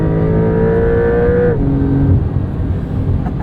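A 2022 Porsche 911 Carrera with PDK gearbox accelerates hard out of a corner, its engine note rising loudly and close, then a quick gearshift drops the pitch before it climbs again.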